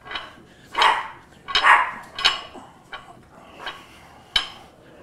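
A dog barks indoors during a bench workout. Several short barks come at uneven intervals, mid-distance and moderately loud, with no talking over them.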